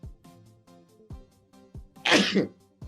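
A single loud, close sneeze bursts out sharply near the end after a few softer breathy and throat sounds, with no talking over it.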